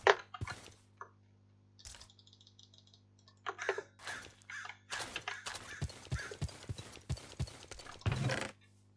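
Horse hooves clopping as a horse pulls a wagon in modded Minecraft, a run of quick, clicky taps in uneven bursts with short pauses, fairly close and dry, no voices over them.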